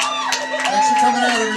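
Comedy club audience cheering and clapping for comedians after a set, a loud burst of whoops, shouts and applause close up, voices mixed into the crowd noise.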